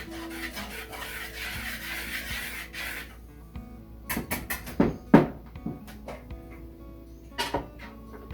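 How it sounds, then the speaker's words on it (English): Whisk scraping through flour, salt and baking soda in a bowl, a soft steady rubbing swish at first, then quieter scattered taps and knocks against the bowl. "And I'm just going to whisk that together."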